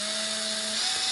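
Screwdriver tightening the tuner screws on an Epiphone SG guitar, a brief close whirring, grinding tone that holds steadily with no talk over it.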